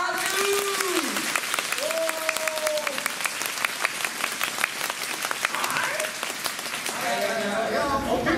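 A studio audience at a university team battle show applauds in a loud, sustained burst of clapping while a presenter's voice rises over it and musical stingers play.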